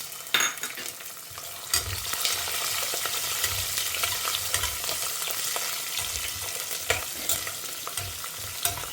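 Small shallots and garlic fry with cinnamon and cloves in a pan, giving a loud, steady sizzle broken by frequent scraping strokes of a stirring spoon, up close with no voices.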